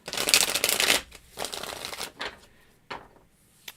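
Tarot cards shuffled by hand during a live reading: a loud, dense riffle for about a second, then several shorter, softer bursts of card shuffling with pauses between them, close to the microphone.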